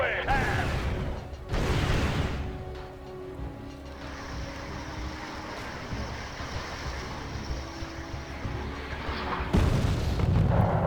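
Artillery strike in the real-time strategy game Wargame: European Escalation, two heavy booming blasts near the start and another near the end, with a low mechanical rumble and faint speech in between.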